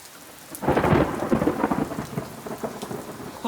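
A loud, rolling thunder clap bursts out over heavy pouring rain in a late-spring afternoon thunderstorm, then slowly fades back into the steady downpour.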